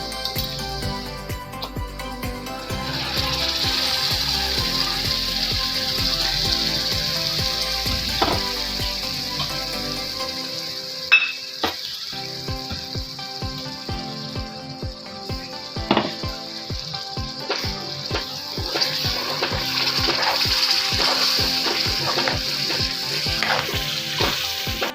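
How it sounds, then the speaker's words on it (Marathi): Schezwan chutney sizzles and fries as it goes into a hot pan, a steady hiss with scattered crackles and a few stirring knocks against the pan, close and fairly loud. "तर यामध्ये मी ही चटणी टाकत आहे."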